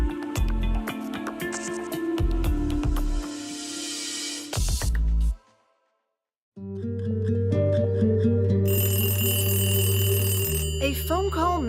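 An old-style telephone bell rings loudly in repeated bursts, breaks off into a brief silence, then returns amid dense music and sound.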